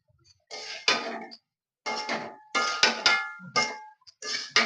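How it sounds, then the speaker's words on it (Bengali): A lid comes off a pan of small-fish chochchori cooked with onion stalks, and the fried small fish are tipped in: a run of sharp metallic clanks and clattering scrapes in short, separate bursts with quiet gaps between. "এবার আমি ঢাকাটা খুলে নেব খুলে এবার বেজে রাখা মাছগুলো দিয়ে দেবো"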